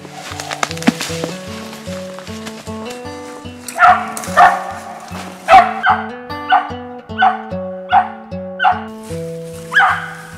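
Squirrel hunting dogs bay at a treed squirrel in the Ozarks, with rhythmic, repeated loud barks and howls in steady succession, close by and outdoors.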